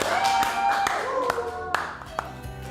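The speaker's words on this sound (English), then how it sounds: "A round of applause in studio." Studio audience clapping for guest David Meade on a talk show set: a small group's claps, brisk and fairly close, with a few sharp distinct hits and some brief talk mixed in.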